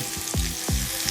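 Spiced fried chicken sizzling in hot oil, a steady dense crackle with two swelling surges about a third of a second apart, close and fairly loud over a low music bed, no voices.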